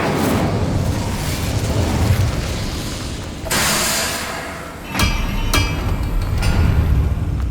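A fire spell is cast in Hogwarts Legacy, a loud whooshing roar that swells, dips and flares again, with a few sharp crackling bursts over a constant dense rumble.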